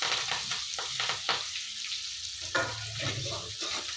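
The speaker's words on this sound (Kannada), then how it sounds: "ಎಣ್ಣೆ ಕಾದಿದೆ ಅದಕ್ಕೆ ಕರಿಬೇವು ಹಾಕೊತಾ ಇದ್ದೀನಿ" Crushed garlic, onion and curry leaves frying in hot oil, a close crackling sizzle with stirring scrapes and bursts of spitting, steady throughout.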